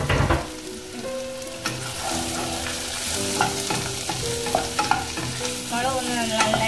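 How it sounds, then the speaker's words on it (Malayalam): Onions and dried red chillies frying in a pan for masala dosa filling, a steady close sizzle broken by sharp scrapes and clinks of a spoon stirring, with no voices. "അതിലേക്ക് നമുക്ക് വറ്റൽമുളക് ചേർത്ത് കൊടുക്കാം. അതും ഒന്ന് നന്നായിട്ട് മൂക്കണം."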